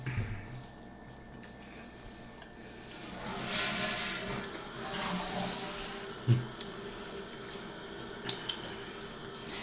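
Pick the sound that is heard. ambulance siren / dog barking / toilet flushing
toilet flushing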